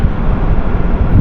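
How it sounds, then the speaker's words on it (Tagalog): Strong wind buffets the microphone at a beach campsite in Tambobong, Dasol, Pangasinan, a steady loud roar with low rumbling gusts and no clear tarp flaps standing out. "Pero grabe yung lakas ng hangin. Talagang pinapagaspas yung tarp."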